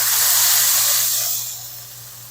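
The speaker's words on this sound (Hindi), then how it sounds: "अब हम इसके अंदर ऐड कर देंगे जो पेस्ट बना के रखी थी प्याज और धनिया हरी मिर्च की" Onion, coriander and green chilli paste hits a hot keema pan with a loud, steady steam-laden hiss that fades to a softer sizzle after about a second and a half.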